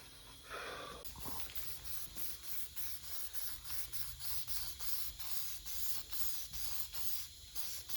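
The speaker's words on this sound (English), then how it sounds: "Just spraying it to get any grease or anything to be on there, so you don't get a bunch of fish eyes" Aerosol spray hisses in repeated short pulses as black paint is sprayed onto the rear differential of a 2010 Ford Raptor, close and steady over a faint background, with no talking.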